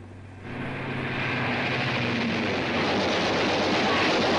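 Airplanes flying overhead, a rising, loud continuous engine roar that swells from a quieter start and holds as a dense rumbling drone.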